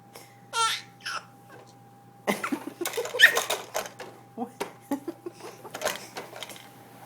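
A baby makes playful fake coughs, a burst of short, breathy coughing sounds repeated in quick succession up close, with an adult voice speaking briefly before them.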